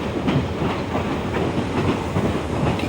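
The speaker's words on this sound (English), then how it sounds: "Departing Sault Ste. Marie, trains pass the busy St. Mary's Paper Mill" Algoma Central passenger train rolling on rails departing Sault Ste. Marie, a steady loud rumble with rhythmic clickety-clack of wheels over rail joints, heard close and continuous.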